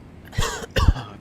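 A person gives two short, deliberate coughs, close to the microphone, the second one stronger, with near silence around them.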